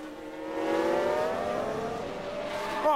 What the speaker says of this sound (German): Oh, und der Wagen blockiert.